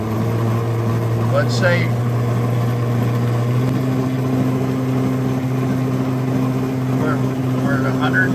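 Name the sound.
15 kW machine spinning at about 170 RPM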